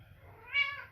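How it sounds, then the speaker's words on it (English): A curious house cat gives a single short meow, rising and then falling, fairly close and clear over a quiet room during a beginners' yoga session. "Very curious cat as usual"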